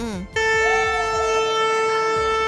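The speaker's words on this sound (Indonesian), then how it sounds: "Itu dia klakson gitu." A loud, steady horn blast starts after a brief moment of noise and holds for a couple of seconds, close by and sustained.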